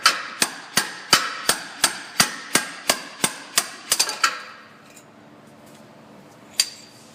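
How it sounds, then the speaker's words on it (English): A rapid series of about a dozen sharp metallic impacts from a slide hammer pulling a leaking left axle seal from a Ford Fusion 6F35 transmission, evenly spaced and ringing, then they stop and only faint clatter remains. "then I'll be able to slide hammer it out of there"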